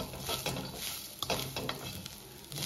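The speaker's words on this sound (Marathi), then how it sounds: "खोबरं, कांदा, गरम मसाला छानपैकी भाजत आलेला आहे" Coconut, onion and garam masala are roasted in a pan for a Goan cashew curry. A soft, steady sizzle runs under repeated scraping and stirring strokes from a spoon against the pan.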